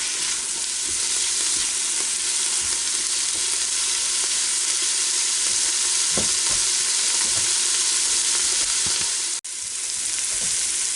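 Onions fry in bacon grease with a constant, close sizzling hiss, broken by occasional soft scrapes and clicks of a spoon or spatula stirring the pan.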